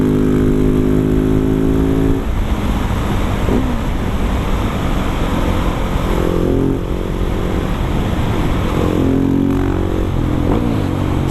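Husqvarna 701 supermoto motorcycle riding on the road, its single-cylinder engine droning loud and close throughout with rising and falling revs as the rider shifts, wind rush over everything.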